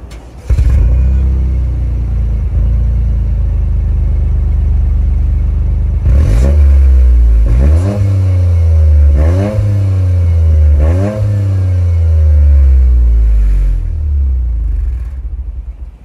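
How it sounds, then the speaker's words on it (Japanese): A Toyota GR Corolla RZ idles with a deep rumble, then revs sharply several times in quick bursts through a loud triple-outlet exhaust before settling back to idle. "この3本出しのねマフラーが相当に迫力あります。"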